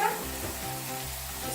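A knob of butter sizzles steadily as it goes into a hot pan where paneer is browning, a continuous close frying hiss with a low steady hum underneath.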